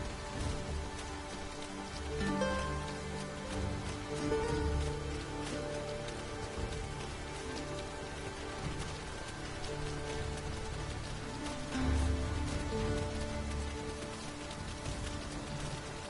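Steady rain falls through the whole stretch in the video game Dragon's Dogma 2, a continuous wash of drops on the ground with soft music or tones underneath and no talk.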